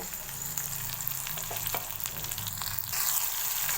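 Steady hiss and crackle of chopped tomatoes frying with onions in hot oil, close and continuous, with a few soft stirring scrapes and no talking.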